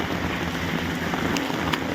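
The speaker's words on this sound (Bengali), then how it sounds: "বৃষ্টি বেশ জোরে বৃষ্টি পড়ছে" Heavy rain pouring down outdoors, a dense, steady hiss of drops hitting surfaces with a few louder close splats, loud and continuous without talk.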